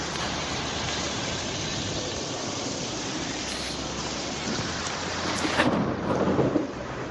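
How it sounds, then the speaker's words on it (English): Heavy rain pours steadily during a September 2025 storm in central Japan, a dense continuous roar with thunder rumbling and swelling louder near the end. "Extreme rain,"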